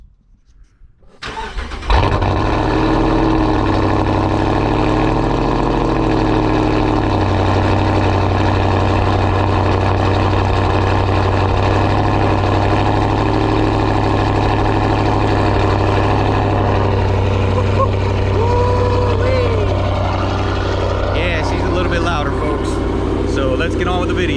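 A Dodge Hellcat V8 fitted with an upgraded throttle body and ported intake cranks and fires after a moment of quiet, then settles into a loud, steady, rumbling idle close by for the rest of the stretch.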